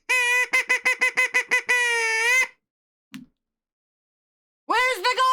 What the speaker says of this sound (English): Look at all them birds!